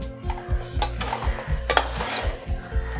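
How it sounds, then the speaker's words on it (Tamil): A spoon stirs black rice sweet with palm sugar and grated coconut in a pan over low heat, making repeated scraping strokes close by with a steady rhythm, and no one talks. "இதை நல்லா கலந்து விட்டுடலாம்."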